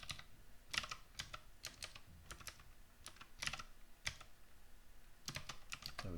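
Typing on a computer keyboard while writing Common Lisp code, with quick bursts of close, crisp key clicks separated by short pauses.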